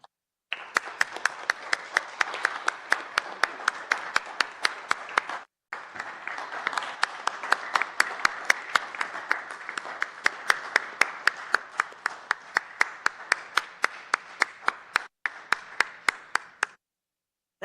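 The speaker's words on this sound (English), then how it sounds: "That might be the longest this board has ever clapped for anyone" Board of Aldermen members give a retiring director a long, steady round of applause, dense clapping that runs nearly seventeen seconds with a couple of brief dips before stopping.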